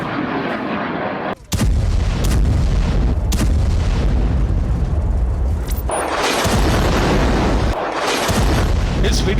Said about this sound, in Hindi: इजराइल ने गाजा पर मिसाइलें भी दागनी शुरू कर दी